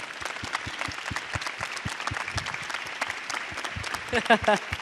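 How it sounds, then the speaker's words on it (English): Students at a school assembly welcome a guest with scattered, fairly quiet clapping that forms a crisp patter of distinct claps, with a few brief cheers or voices rising near the end. "Give him a round of applause, okay?"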